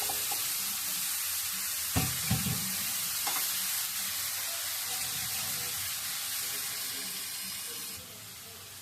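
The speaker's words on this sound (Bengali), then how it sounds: "ভালোভাবে নেড়ে ফেলে মিশিয়ে নেব। আর এটা একটু ভাজা ভাজা টাইপের হবে।" Fish and snake gourd fry in oil in a pan with a steady, close sizzling hiss throughout, broken by a few soft clinks and scrapes of stirring before the sizzle eases near the end.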